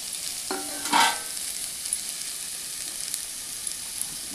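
Papaya, carrot and tomato tipped into a pan with onion give a quick scraping stir and clatter early on, then settle into a soft, steady sizzle with no one speaking.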